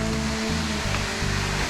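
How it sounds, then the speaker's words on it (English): Small waterfall at Egypt Falls in Nova Scotia, a steady, close rushing of falling water, dense and even throughout with no voices. "it's a waterfall"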